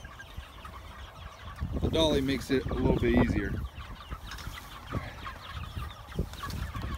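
Chickens clucking inside a Peterson chicken tractor, a cluster of close clucks and squawks in the middle while someone talks and the pen is moved with rolling and knocking noises.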